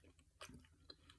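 Crunchy plant-based pigless pork rinds are chewed close to the microphone, with a few quick, crisp bites and crunches over a soft background.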